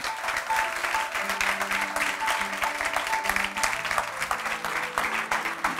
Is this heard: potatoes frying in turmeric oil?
no